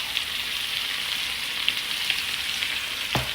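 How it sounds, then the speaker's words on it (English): Squash and pork frying in a pan in green salsa, a steady close sizzle hissing throughout with a brief scrape of stirring near the end. "So you can just keep frying the squash."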